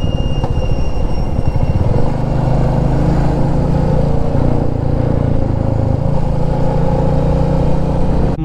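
A motorcycle ridden on a hill road in Meghalaya between Mawlynnong and Laitlum Canyon, with a loud, steady engine drone and rushing wind that stay constant throughout.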